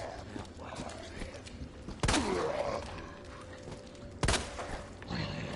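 Gunshots at a zombie in Resident Evil 2 Remake, two sharp cracks a couple of seconds apart over steady game ambience, with someone talking in between.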